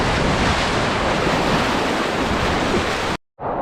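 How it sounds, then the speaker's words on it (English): Rushing water roars close to the microphone while someone slides down a natural waterfall waterslide in Algonquin Park, a loud, continuous wash mixed with wind buffeting that cuts out abruptly near the end. "I'm going down the waterfall. So let's get her done."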